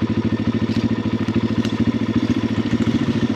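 A dirt bike engine catches after a bump start and settles into a rapid, steady, loud putter, a close throbbing idle with slight clatter and no voices.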